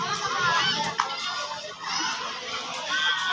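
Many children play at Las Marinas Promenade Park, a dense outdoor crowd of overlapping kids' chatter, shouts and laughter that stays busy and close, with an adult voice speaking over it.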